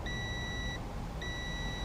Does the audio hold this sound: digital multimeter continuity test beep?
yes